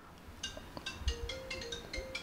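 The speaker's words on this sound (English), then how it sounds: "It looks like that's my phone." A mobile phone ringtone plays faintly as a short sequence of chiming electronic tones over a hushed background, with no talking.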